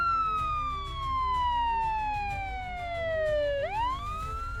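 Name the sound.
police car siren arriving in village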